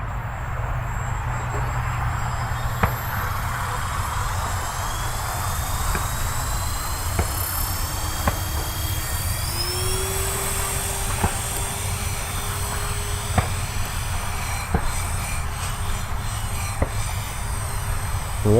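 A Blade 360 CFX radio-controlled helicopter in idle-up 2 mode flies over a grassy field with a continuous high-pitched rotor and motor whine, steady and fairly close, with no voices.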